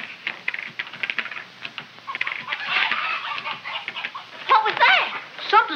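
Chickens cluck and squawk agitatedly in a coop, a busy flurry of clucks rising into sharper, louder squawks toward the end.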